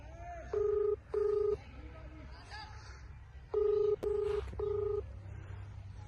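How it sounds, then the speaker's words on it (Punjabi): A series of short, steady telephone keypad tones beeps in clusters as a number is dialed to place a call, sounding clear over a faint background. "ਹੁਣ ਦੂਸਰੇ ਬੰਦੇ ਨੂੰ ਕਰਨ ਲੱਗਿਆ ਫੋਨ"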